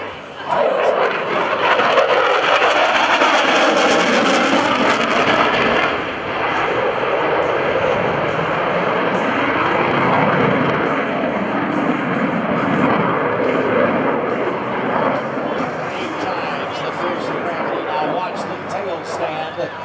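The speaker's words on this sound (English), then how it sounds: "Watch as the Super Hornet enters circle left." A Boeing F/A-18F Super Hornet jet at a military base open house airshow roars continuously through a tight minimum-radius turn, a loud, sustained rumbling engine blast, while an announcer talks over it.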